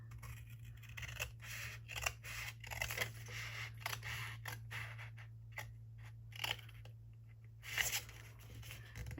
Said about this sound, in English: I'm going to go ahead and cut down this side. Use my bigger scissors for this